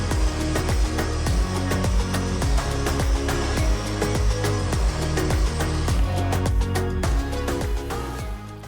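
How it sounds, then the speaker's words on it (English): Loud, continuous roar of a garage vacuum cleaner blowing warm air to dry a motorcycle, with a rough, pulsing texture, steady throughout and close up, with no speech. "I use my garage vacuum cleaner for pre-drying because it can be turned to blow the warm air."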